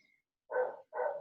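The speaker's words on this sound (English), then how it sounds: "I'm with 2 dogs right now and they like to bark a lot." Two dogs bark indoors in two quick, loud, close barks with a short gap between them, no voices over them.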